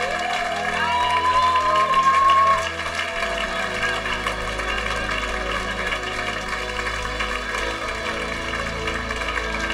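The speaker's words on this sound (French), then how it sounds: "Acclamons encore le roi des rois." An Easter seminar congregation in a church hall claps and acclaims in a loud, steady mass of applause and cheering, strongest at the start then holding level, with voices mixed in.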